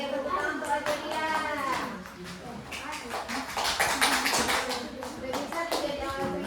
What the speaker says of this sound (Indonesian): Iya, tepuk tangan untuk aja dia.